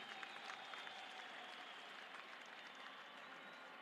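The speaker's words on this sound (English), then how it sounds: "Let us welcome him with a big hand clap in that spirit" Audience giving a big round of hand clapping to welcome the president at a Zimbabwe court hearing, steady faint applause that holds evenly throughout, heard from a distance.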